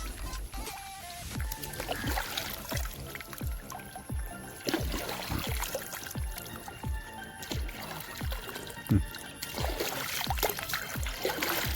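A dog laps water in quick, regular slurps, a steady run of wet splashy licks heard close, with some faint background noise and no clear speech.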